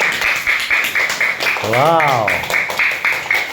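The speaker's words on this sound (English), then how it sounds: "Clap for him, everyone" Students in a speaking class clap for a classmate, a brisk run of claps through the whole moment with an exclamation and talk over them.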